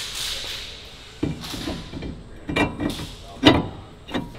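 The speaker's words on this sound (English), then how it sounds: "we're going to pop our new rotor on." New brake rotor going onto the hub of a Nissan 350Z: a series of metallic clinks, scrapes and knocks as the disc slides over the studs, close up and without speech.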